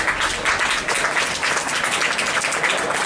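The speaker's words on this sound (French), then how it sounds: "on peut les applaudir bien fort" Audience at an epic evening show with the Furor Bellatorum troupe and Jobino circus applauding loudly, a dense continuous patter of many hands filling the room throughout.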